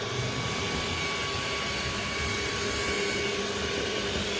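A Zemmio 650W cordless vacuum cleaner runs on high power with a loud, steady whooshing roar and a thin high whine, close by.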